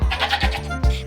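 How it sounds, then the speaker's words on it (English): Baby goats on a farm bleat loudly and close up, with several short overlapping cries in quick succession and a final strong bleat. No other sounds are heard. "These baby goats love Rosie's milk"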